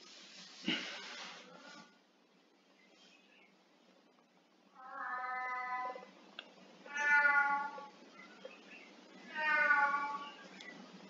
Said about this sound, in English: Hush thy mouth, cat.